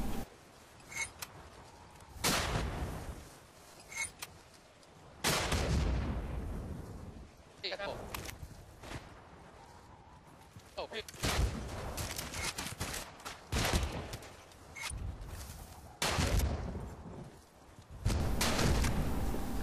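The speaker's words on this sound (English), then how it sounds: "Now here you'll see that the RPG-7 will take out the tank in 2 shots at the side and at the back." Rocket blasts and heavy explosions from RPG-7 launcher shots striking a tank in Battlefield: Bad Company 2, several loud booming impacts spread across the stretch with rumbling gaps between them.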